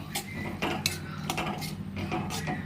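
A spoon scrapes and knocks around a pan as cooked-down masala and salted, turmeric-fried tiger prawns are stirred together, giving irregular close metallic clinks and scrapes with no talk.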